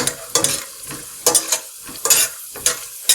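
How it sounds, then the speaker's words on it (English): Peanuts frying and being stirred in a pan, with repeated bursts of scraping and sizzling in an uneven rhythm, fairly close and loud, with no talking. "See how the peanuts are getting fried now?"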